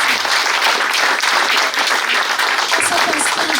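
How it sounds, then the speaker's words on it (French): A roomful of listeners claps steadily for a lecture on Haïm Zafrani and Moroccan Judaism, producing a loud, even wash of applause with a voice faintly mixed in. "Vos applaudissements s'il vous plaît."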